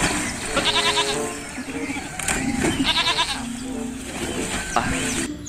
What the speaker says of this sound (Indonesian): ada domba